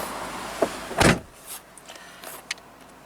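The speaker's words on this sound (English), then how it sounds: "So let's close the door." A door of a Seat Leon Cupra 280 with a 6-speed manual shuts in a single solid thud near the one-second mark, close by, followed by a few faint clicks and rustles inside the cabin.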